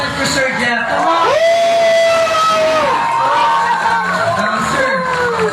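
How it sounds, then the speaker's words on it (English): An audience at a sea lion show in Subic cheers and whoops loudly throughout, a dense crowd roar with rising shouts and a siren-like whistle sweeping over it. "Sir, they're all cheering for you."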